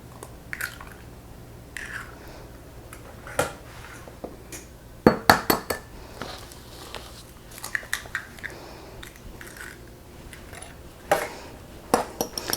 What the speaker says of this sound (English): we're going to go ahead and crack 4 eggs